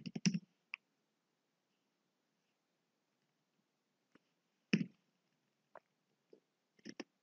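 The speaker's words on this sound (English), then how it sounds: "So I will type here" Sparse, quiet keystrokes on a computer keyboard fall near the start, then single taps and one small burst come after a long silent gap, with no talk.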